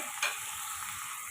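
Onions and chopped ripe tomatoes sauté in a pan for tomato rice, giving a steady close sizzle with one brief louder stirring scrape near the start.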